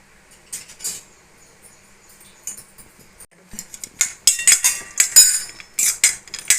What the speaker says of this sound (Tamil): முந்திரி பருப்பு என்ன பண்ணுறோம், இது என்ன பண்ணுறோம், நல்லா போட்டு வறுத்துக்கிறோம்.